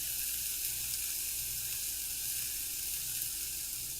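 Red pepper sizzling steadily in a hot pan for a Denver omelet, a continuous close frying hiss with no break and no voices.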